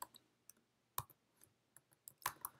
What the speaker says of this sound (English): I will type in a good password for this wallet.